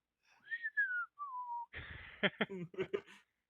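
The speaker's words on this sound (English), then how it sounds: "Just start whistling" Someone whistles a brief gliding melody, falling in pitch, followed by a few soft breathy sounds, quiet and close.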